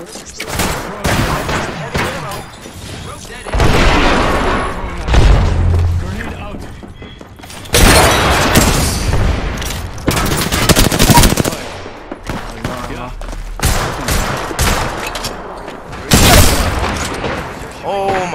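Rapid automatic gunfire and heavy explosive booms from the battle royale shooter Apex Legends, loud and close in repeated bursts across the whole stretch, with a player talking over the combat.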